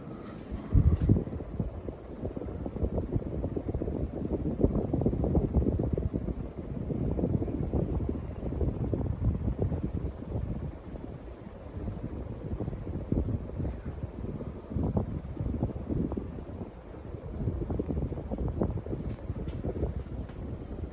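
Hunter Stratford 52-inch ceiling fan in weathered brick and light oak, spinning with a steady low whooshing airflow and a soft, continuous hum close to the microphone.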